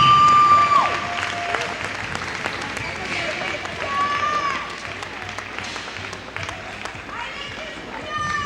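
Steady applause from a crowd in a large room at a college men's volleyball medal ceremony, with scattered cheers and a voice carrying over the clapping throughout.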